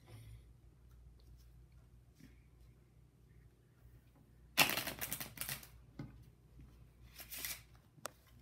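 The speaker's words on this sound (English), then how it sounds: "now I'm gonna shuffle it up to make it in no specific order" A deck of playing cards being shuffled: after a quiet stretch, a sudden close ruffle of riffling snaps breaks out, followed by a few shorter flurries and taps.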